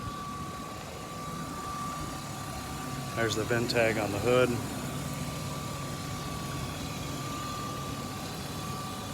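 A 1997 BMW Z3 2.8 roadster with a five-speed manual idles steadily in the background, a low even hum running under a person talking throughout.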